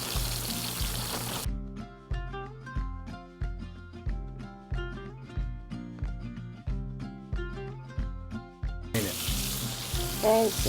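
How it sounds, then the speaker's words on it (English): Flour-coated beef tips browning in hot oil in a pan, a loud sizzle at the start and end with steady plucked music filling the middle. "We're just browning it and, you know, searing that flour onto there"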